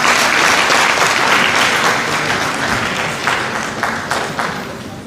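Loud, dense applause from a large audience at an IIHT graduation ceremony, continuous broadband clapping that stays strong throughout and eases slightly toward the end.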